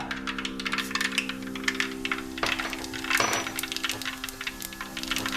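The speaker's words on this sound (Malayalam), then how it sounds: "കടുക് പൊട്ടട്ടെ" Mustard seeds popping in hot oil while tempering for kathirikka thokku (eggplant relish): dense, continuous crackling and sharp pops, loud and close, over a steady low stove hum.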